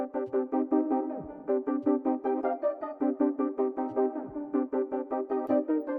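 An octave-down melody sample built in FL Studio plays alone: a rhythmic pattern of short, plucked tonal notes repeating evenly at a moderate level.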